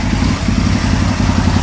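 An Aprilia motorcycle engine runs steadily at raised revs during fuel tuning, a loud, close, continuous low rumble with mechanical clatter and no voices.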